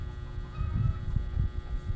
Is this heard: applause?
no